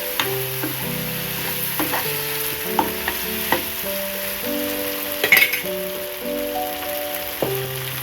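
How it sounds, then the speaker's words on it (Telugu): Fried paneer being turned with masala paste in a pan, a steady crackling sizzle broken by repeated spatula scrapes and taps, close and fairly loud, with no one speaking. "వేయించుకున్న పన్నీర్ని ఇలా పేస్ట్తో పాటు ఇలా తిప్పేసుకోవాలి."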